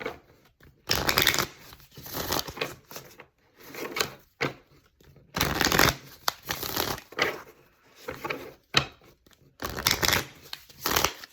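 A deck of cards being shuffled by hand, in several separate bursts of quick riffling and flicking with short pauses between them, close and clear with no voices.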